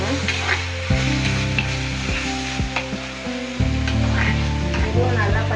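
Garlic and tomato sauté loudly in a pan as the base for a prawn gravy, a dense close sizzle with frequent scraping stirs and a low steady hum underneath.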